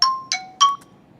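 A chime sound effect marking time passing: three quick bright bell-like dings in succession, clear and fairly loud, each ringing briefly before fading to silence.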